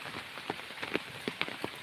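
Light rain falling in a rural village, with scattered drops pattering on a surface, faint and close, in a brief stretch.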